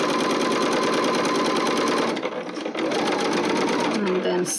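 Close, loud sewing machine top stitching a fabric project bag, whirring steadily with a brief slowdown and restart partway, while a person talks over it.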